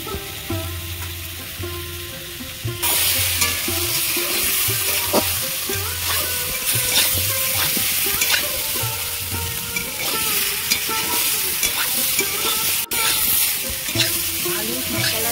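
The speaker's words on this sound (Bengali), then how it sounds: "আলু, মশলা, ডাঁটা আমি ভালো করে কষিয়ে নিয়েছি" Potatoes, spices and drumstick pieces sizzle and fry in a pan for a Bengali fish curry, with steady scraping stirs and clinks of the spatula over a continuous loud hiss.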